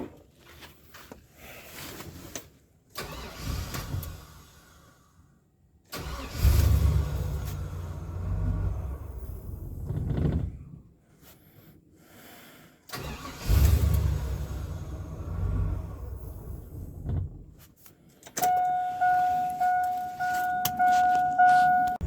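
A barn-find Chevy 3500 with an 8.1 engine cranks and catches, its loud, uneven rumble surging and dropping across repeated starts before settling into an idle, with a steady tone joining near the end.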